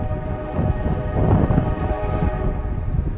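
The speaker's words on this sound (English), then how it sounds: "Stupid train." A train rumbles past near a trout creek during spring creek fishing in Voorheesville, New York, a steady loud roar with rattling that swells slightly mid-pass and carries some wind noise, with no talking.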